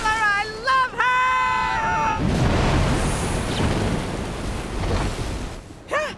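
Ocean waves surge and crash in the animated film Ice Age 4, a loud rushing wash of surf that follows an excited cartoon voice shouting near the start, with another short vocal burst at the end.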